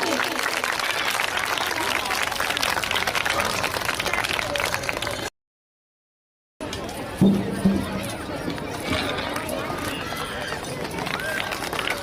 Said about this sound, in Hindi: जोरदार तालियां बजती रहनी चाहिए, रुकनी नहीं चाहिए।